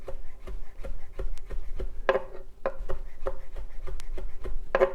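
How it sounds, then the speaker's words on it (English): A knife chops lemon zest on a cutting board in a steady run of crisp, close taps, a few sharper strikes standing out, with no talking. "chop the lemon zest"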